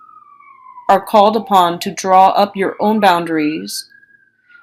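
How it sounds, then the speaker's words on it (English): A siren wails steadily in the background, rising and falling faintly beneath a person speaking close by. "excuse the siren."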